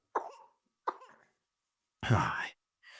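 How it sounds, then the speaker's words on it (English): Two short, sharp coughs close by, a pause, then a louder, rougher throat-clearing cough, with the start of another at the end. "Coughing away there."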